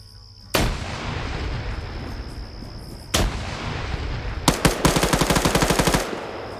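Video game combat with a sudden blast at the start, another sharp burst a few seconds later, then rapid automatic gunfire in a fast rattling string near the end, loud and close with no talk.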